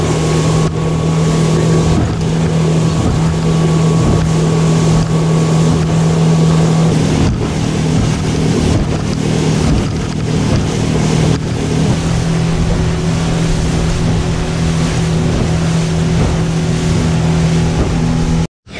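Motorboat engine droning steadily as the boat heads back to port after a fishing trip, a constant low hum with wind and water rushing over it, close and loud throughout.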